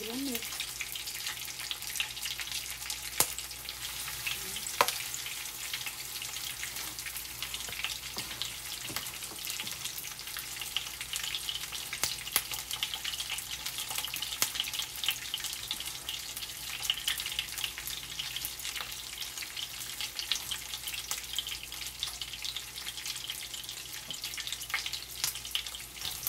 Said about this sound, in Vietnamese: Hàu chiên giòn.